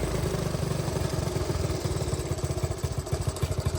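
A small engine runs choked, chugging with an uneven rhythmic putter that grows more pulsing and irregular toward the end, loud and close without speech.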